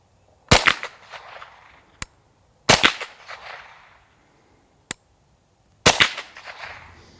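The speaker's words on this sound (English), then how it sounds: "I'm going to just take some shots with some Piney Mountain tracers here" Gunshots from Piney Mountain tracer rounds fired at steel plates, three sharp loud reports spaced a few seconds apart, each with a decaying echo tail, plus fainter distant cracks from plate hits between them.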